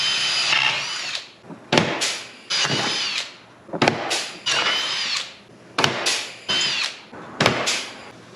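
A power drill bores repeatedly through aluminum and plastic panels for pop rivets on an International 4x4, sounding in about seven loud bursts of a second or so with short pauses between.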